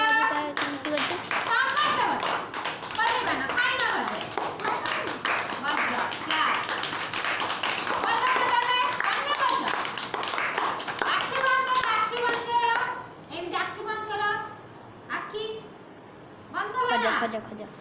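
A group of children claps hands in repeated bursts in a classroom game, mixed with an adult's instructions and children's voices throughout.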